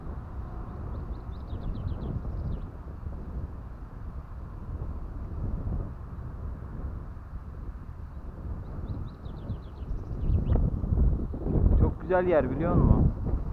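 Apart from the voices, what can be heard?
wind breeze blowing into the microphone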